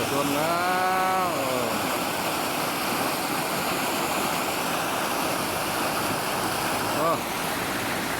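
Floodwater rushing steadily through a roadside pipe, a loud continuous roar of flowing water close by, with someone talking over it near the start.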